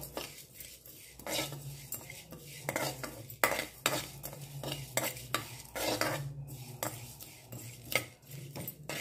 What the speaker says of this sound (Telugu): నువ్వులు త్వరగా వేగిపోతాయండి, అందుకోసమనే లాస్ట్లో వేయించుకుంటే సరిపోతుంది